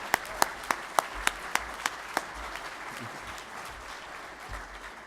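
Applause at an honors graduation ceremony opens with loud, evenly spaced claps from a single nearby person, then fades into a softer, scattered clapping under a low room hum.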